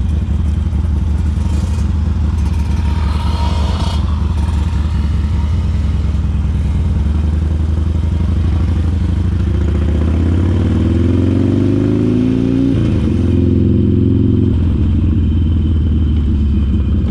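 An American-made motorcycle engine rumbles loudly and continuously up close, its pitch rising as it revs and accelerates, then dropping briefly before steadying.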